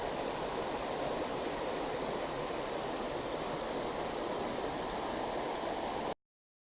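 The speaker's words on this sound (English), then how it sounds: "I just love the sound of rushing water" Steady, broad rushing water of the rapids at Hogg's Falls, Flesherton, Ontario, roars without a break, dense and full, then cuts off abruptly.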